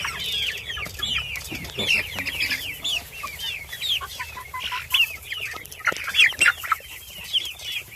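Free-range native chickens in white, brown and black breeds cluck repeatedly and close by, a busy overlapping chatter of short calls over faint outdoor background.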